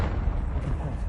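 A short, muffled blast from the Confringo fire spell in Hogwarts Legacy, a dull booming burst with rumbling low end that fades quickly.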